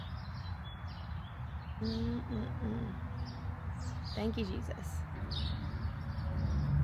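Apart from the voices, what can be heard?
birds chirping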